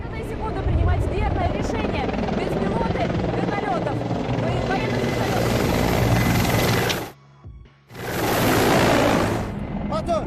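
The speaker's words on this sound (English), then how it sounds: "Военные вертолеты." A military helicopter flying close and loud, its rotor thump and turbine whine rumbling steadily before briefly cutting out and then swelling back.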